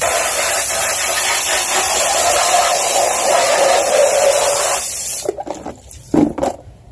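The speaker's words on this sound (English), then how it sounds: "let's get the salt water off of that and spray that one down" Hose spray hissing steadily onto a WeatherTech floor mat to rinse off salt water, a loud continuous rush for about five seconds before it cuts out into a few short, uneven splashes.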